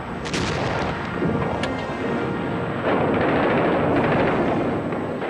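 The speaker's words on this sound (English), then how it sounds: "a short bombardment began the final destruction of France" Wartime artillery bombardment on the Somme and Aisne front in France, June 1940: a dense, continuous roar of heavy gunfire with sharp bursts and booming blasts layered over one another, loud throughout.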